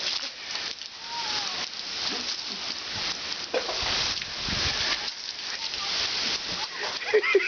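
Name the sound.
rain falling, first rain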